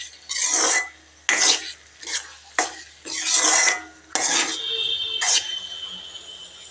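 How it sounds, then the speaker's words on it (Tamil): Pumpkin dish being sautéed in oil in a pan: a spoon scrapes and stirs in repeated strokes, about six rasping pushes against the pan, with a faint sizzle underneath and no talk. "இன்னும் 2 நிமிஷம் நல்லா வதக்கிக்கலாங்க."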